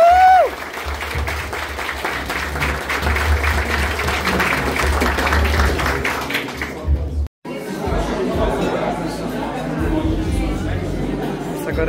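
Applause from a crowd at a family 70th birthday celebration, with loud clapping and chatter running for about seven seconds. It breaks off for a moment, then resumes as quieter crowd noise and talk.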